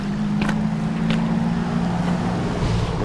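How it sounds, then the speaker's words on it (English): Road traffic passing at the edge of a road in the Numinbah Valley, a continuous low rumble of vehicles with wind buffeting the microphone and a couple of brief higher swishes. "as you can probably hear the traffic going past"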